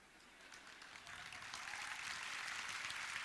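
An audience at a farmers' and youth gathering claps, the applause starting moderate and swelling steadily louder into a dense, even roar with no voices.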